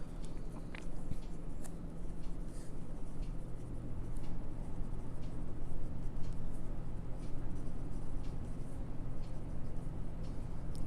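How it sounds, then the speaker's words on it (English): A Lecai acrylic fountain pen writes a sample on paper, a steady soft scratching close up with a continuous low hiss underneath and no talking. "This is the writing sample."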